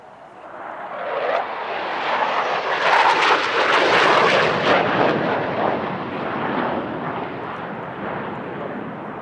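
A jet flies a low, fast sneak pass at an airshow in Salinas, California, its broadband roar swelling loudly and staying close for several seconds before easing slightly as it passes.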